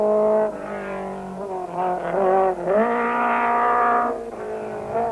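Rally car engines roar close and loud along a long, fast stage, revving and shifting pitch as the cars push through, with a brief dip before climbing again.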